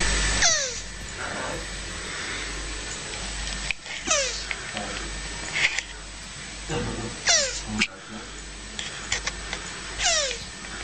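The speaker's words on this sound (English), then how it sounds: "What you just heard there was obviously the sound of a tortoise making sweet, sweet love to a shoe." A tortoise mating with a shoe makes soft, rhythmic high-pitched squeaks and chirps recurring every couple of seconds, with occasional bumps and thuds over a low steady hum.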